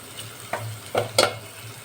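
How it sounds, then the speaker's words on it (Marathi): Dal tempering being stirred and sautéed in a pan for a Maharashtrian phodniche varan, a few soft scraping strokes over a faint steady sizzle, close by with no talking. "आता एक मिनिट हे सर्व मिक्स करून घेऊया"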